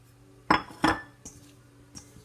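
Salt, baking soda, cinnamon and cloves are stirred together in a bowl for a steamed suet pudding: two sharp utensil knocks against the bowl, then lighter clinks.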